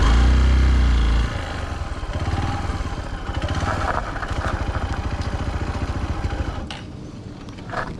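A motorcycle in first gear labours along the rough mountain road toward Kailash Mansarovar, its engine a close, loud, throbbing drone after a brief rumbling start, holding steady with rattling clatter before easing off near the end.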